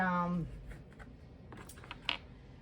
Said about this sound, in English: I'm just going to get them shuffled first